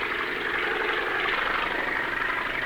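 The engine of a 1910 flying machine roars as the old aircraft rolls down a field for takeoff, giving a steady, loud, droning mechanical rumble with no voices over it.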